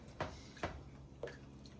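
Three soft, wet squishes of water being stirred into browning stew beef gravy in a pot, spaced unevenly over a quiet background.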